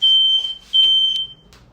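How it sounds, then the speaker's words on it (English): A smoke alarm goes off in a home kitchen while matzah bakes, sounding two loud, piercing electronic beeps close by with a brief gap between them. "I had the door splayed wide open to our balcony to hopefully not set off the fire alarm. And We set it off anyway."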